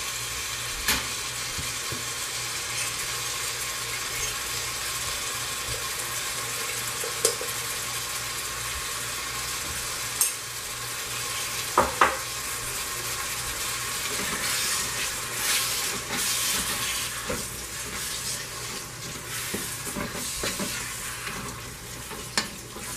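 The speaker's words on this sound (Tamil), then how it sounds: "தக்காளி நல்லா வதங்கட்டும்." Tomatoes sautéing in a pan for mutton biryani give a steady close sizzle and hiss, broken by occasional scrapes and clinks of a spoon stirring, with no talking.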